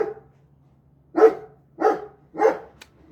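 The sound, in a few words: dog barking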